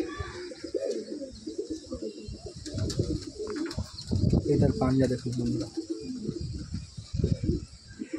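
Pigeons of quality Andhra breed coo in a loft, a steady murmur of soft calls with occasional wing flutters beneath someone talking close by.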